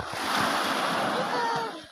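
Sea waves washing and surging up close in Catanduanes, with a rushing wash and wind buffeting the microphone, fading toward the end.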